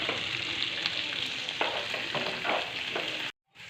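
Green chilli, ginger and garlic sizzling and being stirred in a hot pan, a dense continuous frying crackle with scraping strokes, cutting out abruptly near the end.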